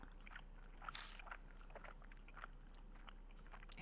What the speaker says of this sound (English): I hear a noise like someone chewing gum from the other end of the phone